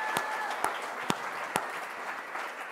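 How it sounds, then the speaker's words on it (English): Applause at the Sharelle McMahon Medal 2023 awards event honours Melbourne Vixens netball player Kate Maloney. A faint, steady patter of clapping runs throughout, with a few sharper individual claps standing out. "so that deserves another round of applause"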